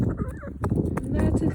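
A rooster crowing amid a busy backyard flock of clucking chickens, including blue-egg layers, loud and close, with wind buffeting in the background.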